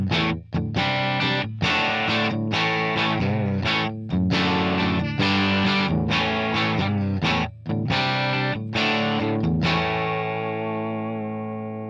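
Electric guitar played through the Fender '65 Twin Reverb amp model on a Valeton GP180/150 modeller, strummed chords and short riffs with a saturated, effected tone, loud and close, the final chord ringing out and fading.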